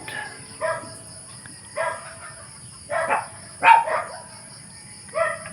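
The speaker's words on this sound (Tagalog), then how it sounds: "Pasensya na kayo sa background. Ang daming aso." Several dogs, including a Shih Tzu, bark in short bursts, about five separate volleys spaced a second or so apart, moderately distant over a steady background hum.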